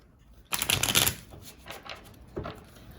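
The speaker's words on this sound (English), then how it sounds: "All right, let me, one more shuffle." A deck of tarot cards is shuffled by hand, a dense riffling burst followed by lighter, scattered card flicks and taps, close and clear.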